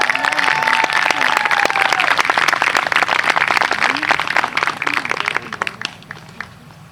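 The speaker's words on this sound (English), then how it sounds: "let's give a big round of applause for Reem Nada out there." Round of applause from a graduation audience greeting a speaker as she comes up, dense steady clapping with a few voices mixed in, gradually thinning and fading toward the end.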